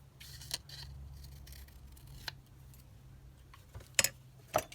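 Scissors snip close by over a quiet room hum, a few sharp isolated cuts spaced out with longer gaps between them, faint background and no talking.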